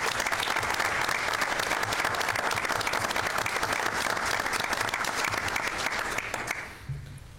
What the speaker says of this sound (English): I'd like the hall board to give these 3 students a big round of applause